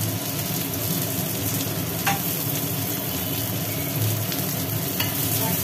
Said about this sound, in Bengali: আচ্ছা, পেঁয়াজ দিলাম, পড়ে গেল পেঁয়াজ।